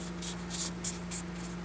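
A printable paper doll top being folded in half: soft, brief paper rustles and creases arrive in several short bursts over a faint steady hum, with no talking.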